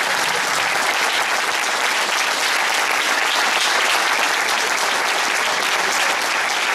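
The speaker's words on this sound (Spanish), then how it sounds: "Diego Sánchez López, por favor, un aplauso para él, vencedor de la novena Francesa." Loud, sustained applause from a crowd greets the winner at the finish of a long mountain endurance race in the Picos de Europa, a dense, even clapping wash throughout without talk.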